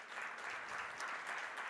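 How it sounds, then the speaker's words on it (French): An audience at a conference on health technology and professional training gives a round of applause, a continuous, even wash of many hands clapping, heard faintly and at a distance. "Je pense qu'on peut les applaudir bien fort"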